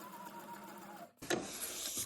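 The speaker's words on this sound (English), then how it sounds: "I'm just going to stitch some leaves" A sewing machine runs as it stitches leaf shapes for a junk journal, a steady close whir that stops briefly and then resumes with a sharper, brighter mechanical buzz.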